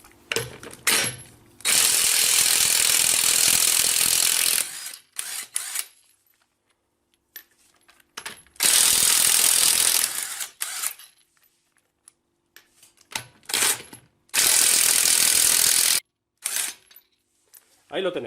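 An impact gun loosens and removes a car's five wheel nuts, firing in loud sustained hammering bursts of a few seconds each, separated by short pauses with clicks and handling sounds close by.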